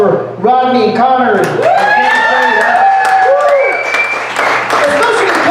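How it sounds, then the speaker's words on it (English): Comedy club audience in Sierra Vista, Arizona applauds loudly and steadily, with whoops and cheers rising over the clapping and a voice calling out near the start. "So another round of applause for Kenny."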